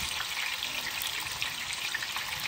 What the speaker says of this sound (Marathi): बारीक केलेलो कांदा जरा हाताने कुस्करून टाकलं तर व्यवस्थित लागतात तेलात.